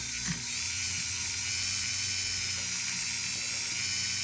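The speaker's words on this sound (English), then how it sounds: "did the final shaping with this Dremel that I'm using right here" A Dremel rotary tool with burrs carves a Celtic trinity heart, giving a steady high-pitched whine with a continuous grinding buzz, close and loud, with no speech.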